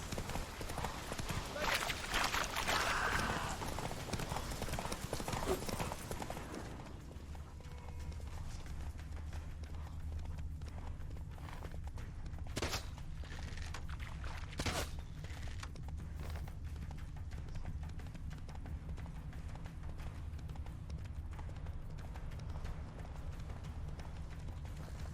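Roach the horse gallops in The Witcher 3, a steady fast clip-clop of hooves running throughout, with brief voices and game sounds over it.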